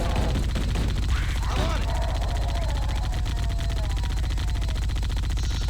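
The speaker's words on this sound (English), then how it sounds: "Here I am, just getting some use out of the chain gun." Rapid automatic fire from the chain gun in the shooter Halo: Combat Evolved, a dense continuous burst of shots running through the whole stretch amid game noise, with a voice briefly audible.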